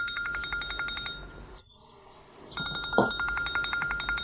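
An unanswered telephone ringing in a home in a drama scene, a repeating electronic trill that pauses briefly, then resumes steadily at moderate loudness against low background noise, with no talk.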